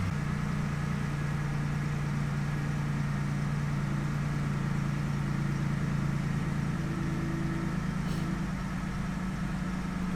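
A 2006 Chevy Impala engine with a misfire runs continuously at idle, a steady low hum with a faintly uneven, close-up drone and no talking.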